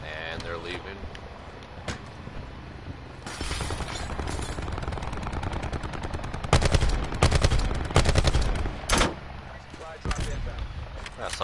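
Gunfire in Black Ops 4 Blackout, with bursts of rapid automatic shots that grow louder and denser midway, plus scattered single cracks over a steady background din and players talking.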